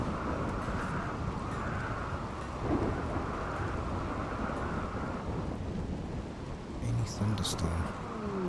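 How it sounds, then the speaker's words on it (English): A RimWorld game thunderstorm brings a steady hiss of rain with low rolling thunder rumbles underneath, building briefly a few times. "Thunderstorm."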